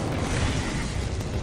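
Incendio spell cast in a Harry Potter video game: a dense, roaring burst of fiery whoosh and boom, loud and sustained for a moment.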